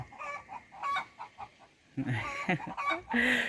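Egg-laying hens cluck on a rural property in New Zealand. Short clucks come in intermittent bursts, quieter at first, then louder and busier.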